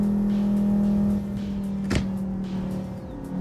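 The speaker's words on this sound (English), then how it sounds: "Sounded like somebody closing the door, didn't it?" A single dull thump of a car door shutting stands out briefly against a steady engine and road hum during a drive in traffic.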